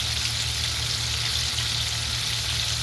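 Fried chicken frying in hot oil, a loud, dense, continuous sizzle and crackle close up, steady for the whole stretch with no voices.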